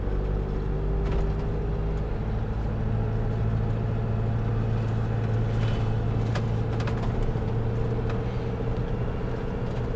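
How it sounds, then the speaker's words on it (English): A shuttle bus engine drones steadily at close range near a car park, a continuous low rumble with the hum of traffic and faint shuffling around it. "That would be the shuttle bus."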